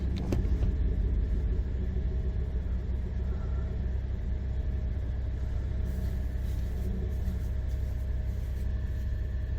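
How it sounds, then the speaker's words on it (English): A 2006 Lexus RX400h hybrid engine runs with a misfire, producing a continuous low, rumbling drone that stays steady and fairly near throughout, with no talking. "do we have a misfire in this vehicle?"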